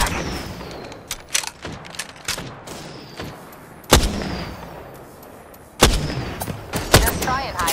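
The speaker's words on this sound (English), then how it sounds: "They're shooting at me." Gunfire in the video game Apex Legends: sharp, loud shots at irregular intervals, some heavy booming impacts, over a low game background with faint talk.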